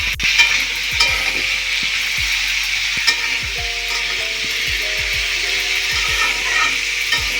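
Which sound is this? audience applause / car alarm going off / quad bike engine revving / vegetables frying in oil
vegetables frying in oil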